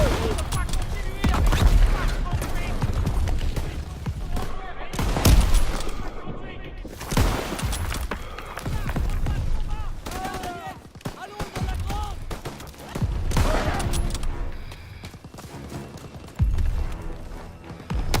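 Rapid bursts of gunfire, machine-gun rattle and booms from Panzer 38 tanks and soldiers in the Call of Duty WW2 video game, loud and continuous over the whole stretch, with voices now and then.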